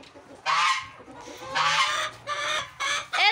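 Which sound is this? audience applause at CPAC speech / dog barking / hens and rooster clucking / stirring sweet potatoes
hens and rooster clucking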